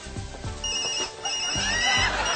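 A Roberts Toot Tone office phone ringtone plays in short repeating bursts, loud and close, with a bright electronic ringing pattern and no talking over it.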